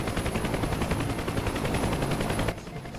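Rapid sustained machine-gun fire from Huey door gunners in DCS World, a dense continuous rattle of shots for about two and a half seconds before stopping, with no one talking.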